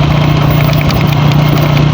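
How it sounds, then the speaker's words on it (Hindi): Motorcycle engine running steadily while riding on the road, a loud continuous low drone with a constant harmonic hum throughout, no voices. "एक हाथ से बाइक चला रहा हूँ"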